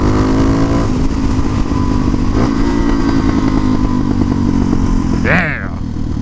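A motorcycle with a freshly broken-in engine revs hard and close, a loud rising and falling roar that climbs sharply near the end, with someone talking over it.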